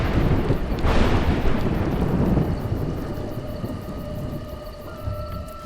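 Deep thunder rumbles through the video game A Juggler's Tale during a storm, a loud low roll that swells in the first seconds and then fades into a steady sustained drone.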